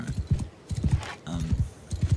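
Horse hooves clip-clopping in quick bursts in Mount & Blade II: Bannerlord, with a brief whinny in the middle, fairly close and loud.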